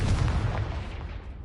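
A Confringo explosion spell cast in the video game Hogwarts Legacy, a single deep, loud booming blast with heavy low rumble that decays over about a second and a half.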